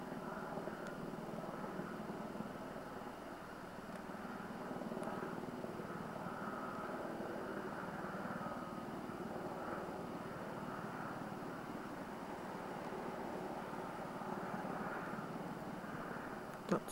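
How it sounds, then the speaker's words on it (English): A helicopter flies over a garden, its engine and rotor making a continuous, steady drone that holds at an even level throughout with no pauses. "The helicopter just flying over."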